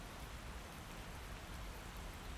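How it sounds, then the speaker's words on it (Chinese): Steady rain falls continuously on an outdoor scene, a broad even hiss with no talking heard. "都下雨了"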